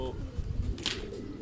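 Pigeons coo in a brief, low, soft burst close by, with a short rustle or flutter partway through.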